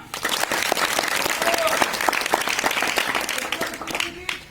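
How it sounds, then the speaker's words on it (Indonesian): A group claps together in a sustained burst of applause, dense sharp hand claps filling a few seconds, with voices faintly mixed in. "Tepuk tangan."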